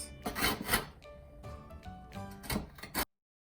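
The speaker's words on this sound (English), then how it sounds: "now we're going to grate the carrot." A carrot is rubbed against a kitchen grater, giving scratchy rasping strokes in uneven bursts that stop abruptly near the end, close and fairly loud.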